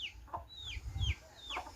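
Chickens cluck close by on a farm, with several short descending calls in an irregular rhythm and a soft thump or rustle in between, and no talking.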